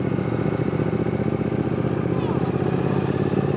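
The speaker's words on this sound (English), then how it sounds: "A little extra throttle, get up over that thing." A Triumph Speed motorcycle engine pulls steadily under extra throttle while riding, a continuous close, loud mid-pitched drone with wind rush and no clear rise or fall.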